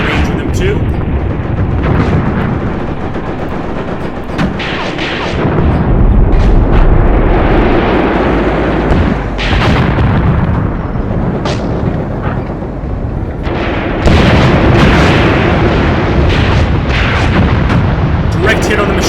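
Tank cannon fire and shell impacts in a WW2 desert battle video game, with repeated heavy booms and rumbling explosions, some close and loud, under ongoing talk.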